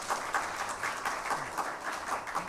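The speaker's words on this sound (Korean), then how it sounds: "우리 은혜로운 찬양해 주신 성가대원들에게 다시 한번 감사의 박수하겠습니다." Applause from the congregation at a university chapel service thanking the choir after their hymn, a steady moderate patter of many hands clapping without talk.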